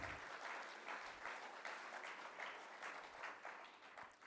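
An audience at a political rally in Paris applauds in a thick, sustained wash of clapping that swells and dips in rhythmic waves, with no voices standing out.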